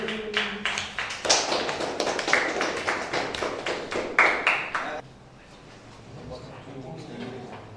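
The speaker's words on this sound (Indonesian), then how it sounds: "Tepuk tangan untuk kelompok Y" Students in a class 10 classroom clap for a group's presentation, a crisp, dense round of many hands lasting about five seconds before stopping abruptly, leaving quiet room tone.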